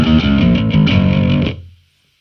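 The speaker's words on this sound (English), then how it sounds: "We're going to move over to the distortion, press parameter on it" A bass guitar played through the distortion effect of a Valeton GP200R unit plays a short phrase with a heavy distorted tone, then cuts off and rings out to silence.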